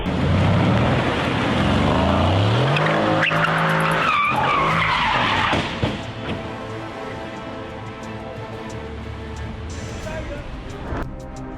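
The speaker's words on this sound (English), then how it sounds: "It seems like this Mercedes car wants to drift, but what happened was it lost control and hit a tree on the side of the road." A Mercedes car skids out of control on a roadside and hits a tree: a loud sustained tire screech and engine roar, then a sharp impact, followed by quieter rumbling and debris.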